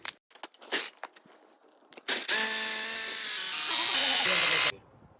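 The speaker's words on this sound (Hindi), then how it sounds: "अब हम इसको ड्रिल करेंगे।" A power drill bores into a roof for a dish antenna mount, running as one steady, loud, high whine for a few seconds after some scattered handling knocks.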